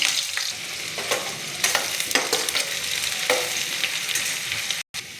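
Onion sizzles steadily in hot coconut oil in a pan, with occasional scraping stirs and clinks of a utensil, close up, and one brief dropout near the end.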